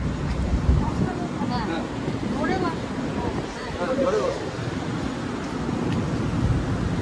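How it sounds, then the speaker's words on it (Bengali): Steady wind rumbles and buffets the microphone throughout, with faint voices audible beneath the gusts. "এখানে কি সুন্দর হাওয়া দিচ্ছে, খুব সুন্দর হাওয়া দিচ্ছে।"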